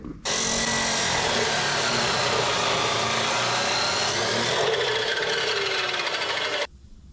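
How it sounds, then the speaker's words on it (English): A chop saw cuts metal parts to length for a Plymouth Fury upgrade, one steady, loud abrasive grinding whine running for about six seconds and stopping abruptly, with no talk. "We'll bring them over here to the chop saw and hack them off right quick."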